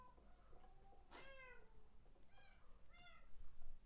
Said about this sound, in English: I'm gonna make my cats breed.